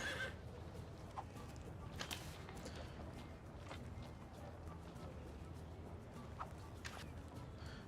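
Horse whinnies and clip-clopping hooves from the strategy game Civilization VII, a few brief neighs and hoof clatters rising over a steady, busy game soundscape.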